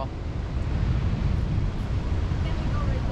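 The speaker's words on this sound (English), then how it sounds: "And there's these huge waves coming in." Huge ocean waves surge and break at Melasti Beach on Bali's southern tip, a steady loud roar of surf mixed with wind buffeting the microphone, with no voices.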